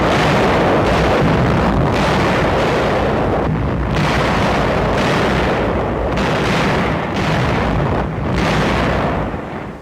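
A massive artillery barrage from 1,400 guns opening a February 1945 offensive east of Nijmegen. It is a dense, continuous roar of overlapping booms and concussions, loud and unbroken throughout, with no speech.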